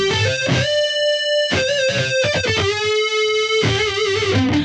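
Electric guitar through a Boss GX-100 processor with pitch-shift modulation, notes with a shimmering, doubled chorus-like wobble, sustained lines and bends played alone, bright and fairly loud.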